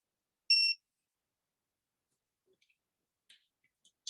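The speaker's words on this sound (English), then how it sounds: "Tighten the spark plug till you hear a buzz and beep" A 3/8 drive torque wrench set to 12 foot-pounds, tightening a spark plug, gives one short electronic beep, followed by near silence and a few faint clicks.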